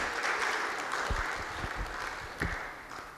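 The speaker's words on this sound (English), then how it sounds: "Please let's keep the applause going" Summit audience at the Innovare Risk Summit Africa applauding to welcome a panel moderator, a moderate wash of clapping from a seated crowd with a few heavier thumps mixed in, easing off toward the end.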